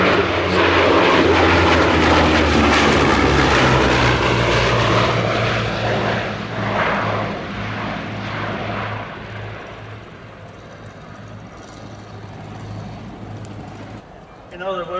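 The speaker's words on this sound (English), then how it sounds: "Britain's first monoplane, the Bristol Blenheim." A vintage Bristol Blenheim twin-engine propeller bomber flies past at the Shuttleworth airshow, its droning engines loud at first then fading away into the distance, with a commentator talking over the sound.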